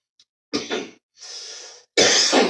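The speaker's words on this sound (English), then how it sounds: "sorry about all the coughing here." Several harsh coughs come in quick bursts, with a raspy exhale between them, close and fairly loud, from someone eating instant pot spaghetti.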